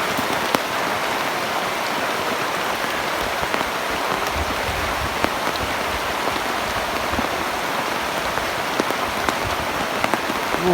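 Steady rain pours down around midday in a rural outdoor setting, a dense, continuous hiss of drops hitting surfaces at close range, with no pauses throughout.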